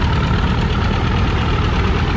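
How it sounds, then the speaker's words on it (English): A heavy vintage tractor engine runs close by at a tractor pulling event, a loud, steady rumble with a rhythmic low knock and no voices. "There's a tractor sneaking up on me."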